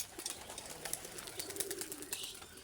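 Pigeons in a pigeon loft make a steady, moderately quiet backdrop of soft calls and bird activity throughout, with scattered brief rustles and no talking.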